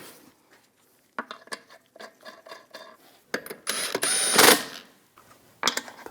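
Wheel being refitted to a 2015-2022 Chevrolet Colorado during front brake hose work: a series of close metallic clanks, knocks and rattles in short bursts, building to a louder scraping clatter near the end, with no talking.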